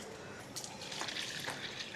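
Water poured into a container to mix a car shampoo solution for washing a parked car, a soft, steady trickle and splash running close by for about two seconds, with no talking.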